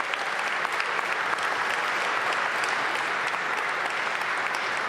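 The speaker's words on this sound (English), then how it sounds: "Let's give Ted and Monumental Sports a big round of applause" A large audience applauds steadily at a morning civic announcement in Washington, D.C. with Monumental Sports, a dense, even wash of clapping that holds at full strength for the whole stretch with no voices over it.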